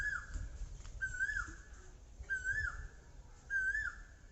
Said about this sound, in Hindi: देखिए कोयल भी अपने मधुर आवाज़ में कुकू कर रही है